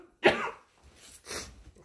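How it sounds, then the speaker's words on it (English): Two bursts of coughing close to the mic, a sharp harsh cough followed by a softer second one, in a quiet indoor room beside a ductless mini split heat pump. "I'm about to cough my brains out,"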